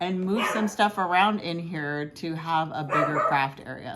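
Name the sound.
dog barking indoors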